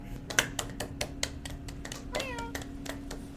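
A cat lets out a single short meow near the end, set against a run of rapid, regular clicking taps and a low steady hum.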